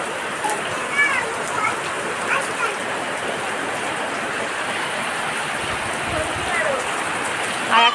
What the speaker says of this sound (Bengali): কেমন বৃষ্টি হচ্ছে দেখো